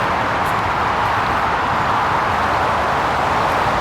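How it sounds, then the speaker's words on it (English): Motorway traffic heard from a lakeside path, a constant loud broadband roar with no breaks and no voices over it. "Just the noise of this motorway here."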